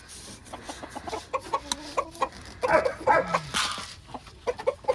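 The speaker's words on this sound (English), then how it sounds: "So you hear the noise the roosters make when they get a special treat?" Roosters cluck in quick, excited bursts, close by, with short calls rising and falling over a few seconds.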